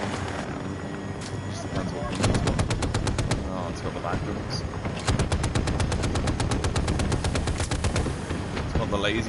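Rapid bursts of automatic gunfire from AI bots in the video game Battlefield 2042, dense repeated volleys over a steady rumble of battle, with a voice talking under the shooting.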